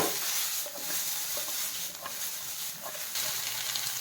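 Cabbage, spring onion and bell peppers are tossed in a hot pan, giving a steady close sizzle broken by soft scraping and shuffling at irregular moments.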